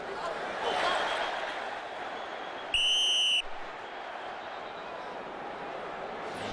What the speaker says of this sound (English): Let's listen to the whistle.